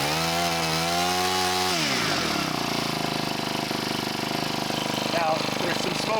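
A restored two-stroke hedge trimmer engine runs close by, its pitch rising as it revs up before settling into a steady, loud buzzing drone, with a voice talking over it.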